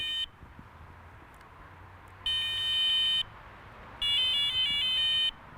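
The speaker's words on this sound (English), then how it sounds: "You've also got a different tone as well, so you've got drop back differentiation" A Sonik VaderX budget bite alarm sounds its drop-back tone: three bursts of clear, high electronic beeping, one short and two longer, separated by quiet gaps with no talk.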